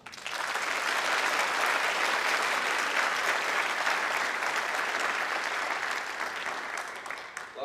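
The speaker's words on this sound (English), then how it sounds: "please give our wonderful parents a round of applause" A graduation ceremony audience applauds the parents with a loud, sustained round of dense clapping that holds steady for several seconds before tapering at the very end.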